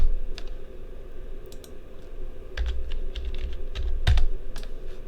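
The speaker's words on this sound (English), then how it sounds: "Got to use the keyboard, which is a dangerous proposition." Clattering keystrokes on a computer keyboard during electronics bench testing, a run of irregular clicks and taps close by, with a low steady room hum underneath and no talking.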